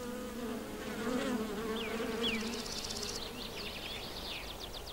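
Paper wasps swarming in a seething colony of males and females, a steady close buzzing drone with shifting higher whines of wings passing near, continuous throughout with no voices.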